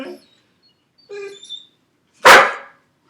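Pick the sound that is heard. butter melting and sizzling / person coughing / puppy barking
puppy barking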